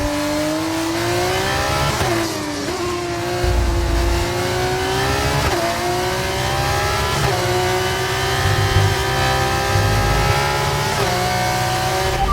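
Formula 1 car engine in the F1 2024 racing game, a loud continuous high-pitched whine that rises and dips as the car accelerates and shifts through gears, steady throughout with no pauses.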